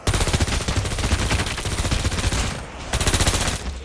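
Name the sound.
machine pistol gunfire in Call of Duty Mobile zombies video game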